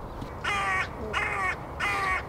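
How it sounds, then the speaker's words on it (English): A crow caws three times at an even pace, each call a harsh, drawn-out rasp, clear and fairly close over faint background noise with no talk. "Calling the crow."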